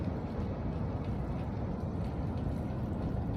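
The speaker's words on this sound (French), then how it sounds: "Et le bruit des vagues là-bas au loin" Ocean waves roll in the distance in Polynesia, a steady low surf rumble with no other sounds.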